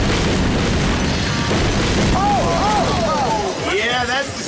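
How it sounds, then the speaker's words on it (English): A loud, sustained blast and rumble as a build is blown up on a TV demolition set, filling the scene with crashing noise while excited voices shout over it. "your countdown will trigger the explosion"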